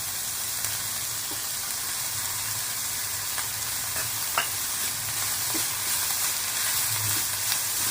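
Grated carrot and other vegetables sautéing in a pan, a constant close sizzle broken by scattered scraping and tapping from stirring, with no speech.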